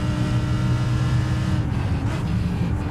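A Frito Sport racing machine in a sim racing video game hums steadily with a droning engine note throughout, with no talking.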